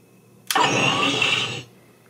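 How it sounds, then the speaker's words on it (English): A Hasbro Ghostbusters Spengler Neutrona Wand toy plays its power-up sound: a single loud, close, rushing electronic burst lasting about a second that cuts off abruptly. "So power up, we get the sound and power up sequence."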